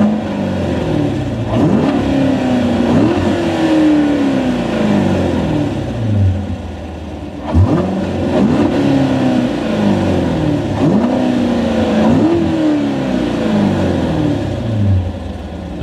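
A 2015 Chevrolet Corvette Stingray Z51 C7 in track exhaust mode revs hard several times, each loud, rising roar followed by a throaty drop back to idle, repeating in steady bursts with no voices.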